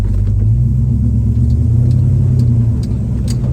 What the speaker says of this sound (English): I'm going over some speed bumps right now